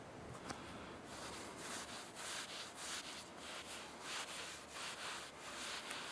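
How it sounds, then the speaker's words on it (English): Rags wipe over the outside of a Colt Gold Presidential 1911 pistol in a run of soft, rhythmic rubbing strokes, about a dozen brisk swipes, quiet and close. "now I'm going to go over the outside with Rusty's rags"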